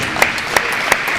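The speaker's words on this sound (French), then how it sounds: "On applaudit le point incroyable." Spectators at a padel tournament final applaud a point, with a dense wash of clapping and a few sharper accents standing out over the crowd.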